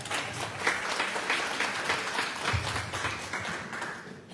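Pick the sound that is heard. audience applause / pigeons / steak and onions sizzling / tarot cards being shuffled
audience applause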